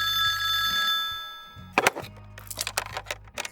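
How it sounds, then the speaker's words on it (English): A single bright bell ring sounds up close, followed by scattered clicks and clatter as if a receiver is picked up, after a fading music bed, in a ghost-story podcast. "the phone rang"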